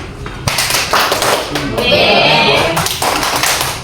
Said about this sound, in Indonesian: kita berikan tepuk wow untuk Ibu Fausia.